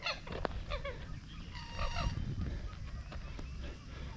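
Waterfowl call out on a lake at Brazos Bend, with a run of honking, nasal cries repeated at a moderate distance over a soft outdoor background. No one speaks.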